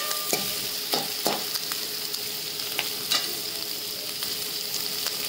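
Tomatoes frying in a pan while being stirred for dal, a continuous bright sizzle with several sharp spoon scrapes and taps scattered through, close by and without any talking.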